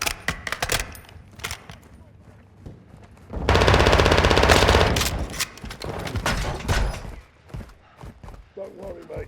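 Automatic gunfire in Call of Duty Modern Warfare II DMZ on the Vondel map, scattered sharp shots followed by a long loud sustained burst of about three seconds, then more scattered shots, with radio voices talking around it.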